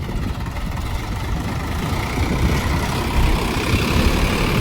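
A tractor engine runs steadily at close range on a farm, a continuous low rumble with no speech over it.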